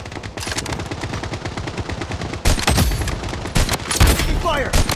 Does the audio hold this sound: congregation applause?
no